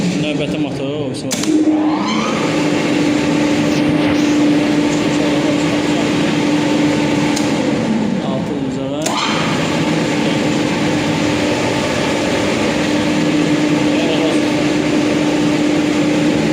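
A 37 kW electric motor wired for star-delta starting runs with a loud, steady mechanical hum and drone, with brief shifts in tone near the start and again partway through.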